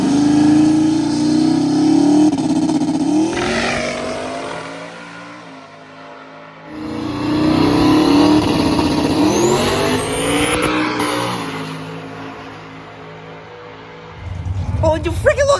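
Race car engine at WRP during small tire testing, loud and close as it revs and accelerates down the track, then drops off and builds again, with a voice talking over it.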